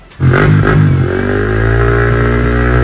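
Modified Yamaha R15 motorcycle with dual exhaust and a DB killer fitted, starting up loud and close with a sharp blip, then settling into a steady, throbbing idle.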